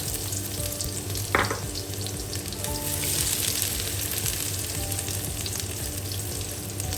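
Ginger sizzles in hot oil and butter in a pan, a steady close crackling fry with a brief clink of a utensil partway through.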